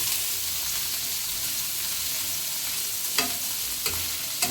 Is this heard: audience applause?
no